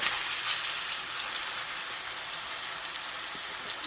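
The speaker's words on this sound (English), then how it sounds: "I want to get a good sear" Turkey smash burgers searing in a crowded pan, a constant, dense sizzle and crackle with no other sounds over it.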